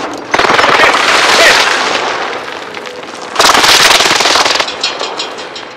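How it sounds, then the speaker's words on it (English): Dense rolling blasts of an airstrike in Call of Duty: Warzone, two loud sustained bursts of crackling explosions with a short gap between them, close and with no talk. "Allied precision airstrike incoming."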